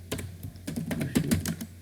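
Rapid, light clicking of keys on a computer keyboard, in short bursts of typing, close and fairly quiet.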